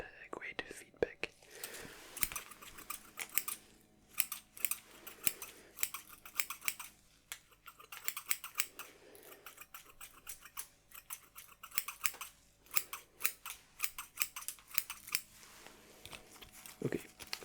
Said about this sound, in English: enough with the scissors for now, or the cutting scissors